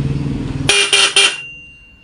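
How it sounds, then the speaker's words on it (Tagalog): A car horn honks three short, loud bursts in quick succession after a low idling rumble, then falls quiet. "tumunog yung ating stock horn"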